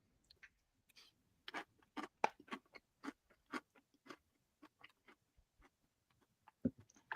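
Crunchy cereal is chewed right up close, a quiet run of irregular dry crunches and clicks spread across several seconds, with no other sound around them.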